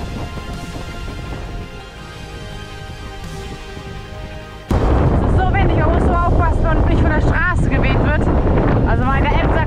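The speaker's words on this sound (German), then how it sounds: "Oh, ist das windig!" Strong wind buffets the microphone on a bike ride in Scotland, a steady roar that turns abruptly louder and harsher halfway through, with gusty rumbling and no clear voice.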